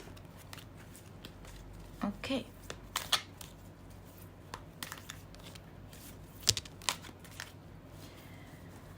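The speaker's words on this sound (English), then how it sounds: "Let's begin our shuffling process." A deck of cards being shuffled at close range, with soft riffling and several sharp snaps and flicks over quiet background; a voice speaks briefly.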